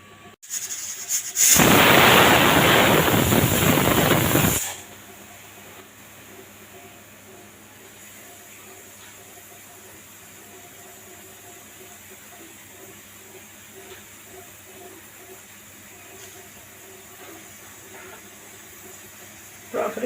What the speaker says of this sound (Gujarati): આપણે 3 સીટી વગાડી લઈશું